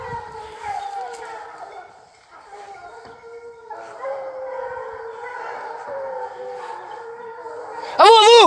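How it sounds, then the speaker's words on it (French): A pack of hunting dogs out on a hunt howls and yelps in long, wavering, overlapping cries that swell and fade, ending in a sudden loud, close burst of baying. "Thomas, j'arrête les chiens ou je laisse traverser?"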